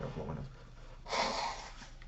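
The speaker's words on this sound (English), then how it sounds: "I got to blow my nose" A person blows their nose in one short, forceful gust of breath lasting under half a second, close to the microphone, after a brief murmur of low background sound.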